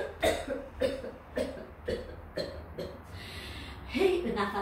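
Several forceful coughs spaced about half a second apart, expelled quickly after deep breaths as part of a lung-strengthening breathing exercise, close and moderately loud over a faint background hum.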